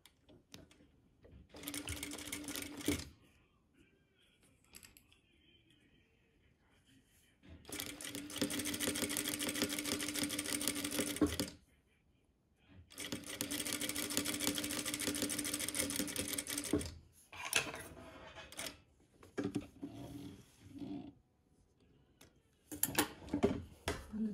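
Sewing machine stitching a French seam, heard close up in several separate bursts of steady rapid stitching with quiet pauses between them, followed by short clicks and handling noises near the end.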